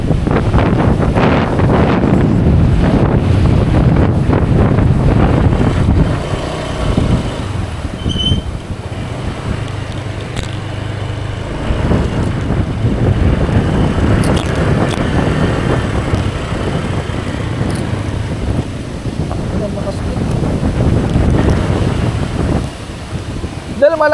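Strong typhoon wind roaring over the microphone on a fishing boat, with waves and sloshing water beneath, a loud continuous buffeting that eases and surges throughout, with voices talking in the background.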